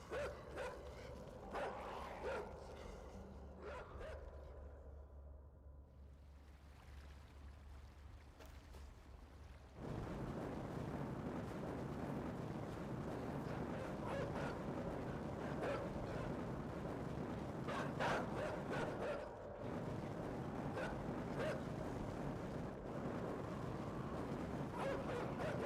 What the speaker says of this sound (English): I get mauled by dogs.